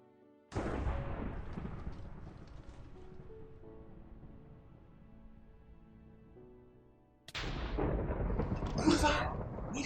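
Minecraft lightning strikes bring two loud thunderclaps. Each opens with a sudden crack, and the first rolls into a long fading rumble. The second hits near the end while a voice talks over it.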